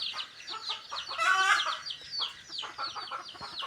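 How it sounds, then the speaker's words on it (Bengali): Hens and chicks cluck and squawk continuously, several birds calling at once with sharp, agitated cries, fairly close and loud. "তাই মুরগির বাচ্চাগুলোও চিল্লাচ্ছে, ধাড়িগুলোও চিল্লাচ্ছে"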